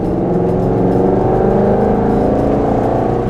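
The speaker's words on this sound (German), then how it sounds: "den GT8 ein bisschen brüllen lassen" A GT8 sports car engine roars steadily on country lanes, a loud, continuous low drone with a sustained, evenly pitched growl heard from close by with no talk.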